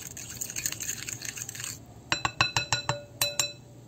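Spoon stirring a sardine and egg mixture with bell pepper, onion and chili in a bowl, a soft scraping blur giving way to a run of about eight crisp, close clinks against the bowl's side.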